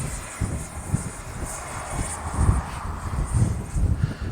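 Arrows 50mm Avanti S RC jet flying in windy conditions, a steady droning whine of the small ducted fan engine mixed with gusty wind rumble, moderately loud and continuous with no talking.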